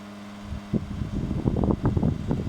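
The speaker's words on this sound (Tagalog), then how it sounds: "So makita nyo, umaandar yung electric fan natin" An electric fan powered by a Yoobao EN1 power station whirs steadily with a low motor hum, with a few soft bumps and rattles close by.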